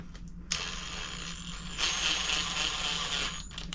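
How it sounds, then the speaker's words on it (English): An older Ryobi impact driver starts bolts on a ported 13B rotary engine for an FC RX7 drift car, giving two close bursts of rattling mechanical hammering with a brief pause between, no talking. "Good thing about these older Ryobi impacts is they're honestly not that strong, which for an impact isn't great, but for an impact that starts bolts, it's perfect."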